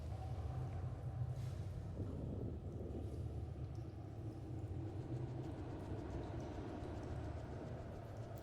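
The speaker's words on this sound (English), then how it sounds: "A train brings reinforcements." A train bringing reinforcements in the StarCraft 2 video game rumbles low and steady throughout, a continuous rolling drone at moderate distance with no voices over it.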